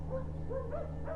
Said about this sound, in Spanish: Los vecinos de la casa de doña Nicolasa oían que los perros aullaban demasiado